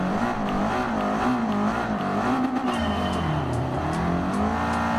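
Race car engines wail continuously in Gran Turismo Sport during a sunset race at Blue Moon Bay on soft tires, the pitch rising and falling with shifts and revs, loud and close throughout.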